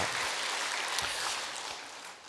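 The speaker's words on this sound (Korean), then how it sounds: "박수 치니까 감동이 오네요" Congregation applause at a Wednesday QT worship service in a church, a steady broad wash of clapping filling the room at moderate level without talk.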